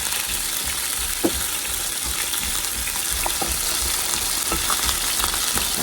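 Chicken breast fries in a pan with a dense, continuous sizzle and crackle close up, scattered sharp pops of spitting oil rising through the steady hiss, no voices.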